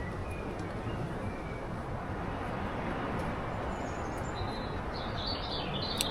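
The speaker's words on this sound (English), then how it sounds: "You can hear that wind outside." Wind roars steadily around a bushcraft camp in stormy weather during Storm David, a constant broad rush with faint bird chirps in the background.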